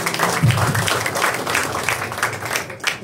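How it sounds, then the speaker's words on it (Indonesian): Church congregation applauding at a Pentecostal service, a steady spread of clapping from many hands that stays fairly loud through the whole moment, with a low voice briefly underneath. "Sekali lagi aplaus buat Komisi Perempuan"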